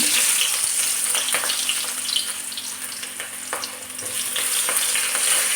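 Onions dropped into hot coconut oil in a pan crackle with a loud, dense, continuous sizzle, broken by scattered spatters and light stirring clicks, with no speech.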